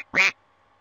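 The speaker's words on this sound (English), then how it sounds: "Duck." A lone duck quack sounds in a children's alphabet game, one short, nasal, buzzy call, close and clear, followed by quiet.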